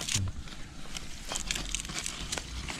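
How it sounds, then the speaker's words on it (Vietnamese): Kaffir lime leaves crumpled and torn by hand over a pot while preparing salt-and-lemongrass steamed chicken, giving close, dry crinkling and crackling bursts over a low background hum. "vò lá lát ra để cho nó tước cái lá chanh ra để nó sẽ thơm cái hai chú gà này"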